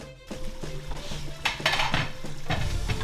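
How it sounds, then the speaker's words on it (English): Chopped garden eggs go into hot oil in a pot for a Ghanaian stew, a rising sizzle under clinks and scrapes of a metal spoon against cookware, close and busy without speech. "Add it to your heated oil."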